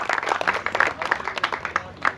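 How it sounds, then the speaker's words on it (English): Applause at a memorial gathering for a cricket coach, a sustained patter of clapping from a gathered crowd, steady and moderately loud across the moment with no voices on top. "let's give them a big round of applause"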